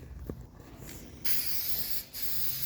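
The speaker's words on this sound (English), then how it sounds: "And for paint, I'm going to use SEM, the charcoal metallic colored trim black, and I'm gonna just put a couple coats" Aerosol spray can hissing as SEM charcoal metallic trim black is dusted onto a Jeep hood vent, one long steady burst, briefly interrupted, then resuming loud and close with no talk.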